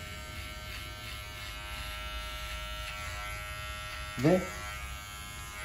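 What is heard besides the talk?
electric hair clipper cutting hair at the nape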